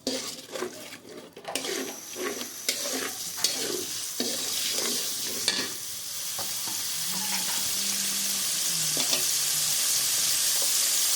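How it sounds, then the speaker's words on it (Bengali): Ground spice paste fries in hot oil while a spoon stirs and scrapes in uneven bursts, giving way to a steadier, louder sizzle that builds toward the end. "যেহেতু মশলাটা বাটা একটু তেলের মধ্যে একটু ভেজে নেব।"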